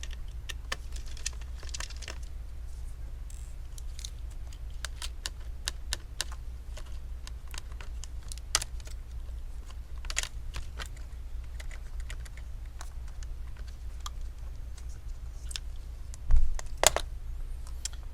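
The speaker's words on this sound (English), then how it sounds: "let's go ahead and remove the motherboard screw" Screws being removed from the motherboard of an HP Omen 15 DC2021NR laptop during a teardown: sparse, sharp little clicks and taps over a low steady hum, with a louder clatter near the end.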